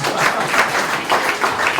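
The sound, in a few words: audience clapping for John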